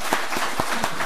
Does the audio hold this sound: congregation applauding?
yes